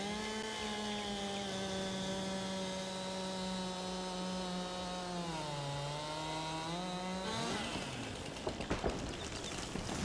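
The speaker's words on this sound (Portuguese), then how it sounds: "O tamanhão da motosserra" A chainsaw in Farming Simulator 22 drones steadily with a buzzing engine tone that dips briefly, then breaks into rough wood-cutting noise near the end.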